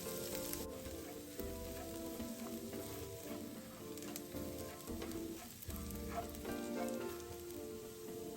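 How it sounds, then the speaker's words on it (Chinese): A tablespoon of minced garlic sizzles in hot oil in a wok, a steady crackling fry with occasional stirring scrapes, quiet and close, with no speech. "接着再将1大匙蒜末也加进来，一起爆香。"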